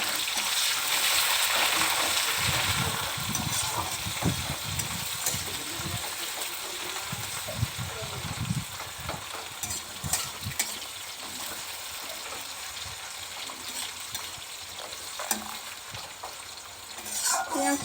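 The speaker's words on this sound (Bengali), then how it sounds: "পেঁয়াজটা ভালো করে ভাজা ভাজা হয়ে যাক।" Chopped onions and green chillies sizzle in hot oil in a pan for a Bengali ghugni recipe, with a steady frying hiss and occasional scraping stirs, close and clear with no talking.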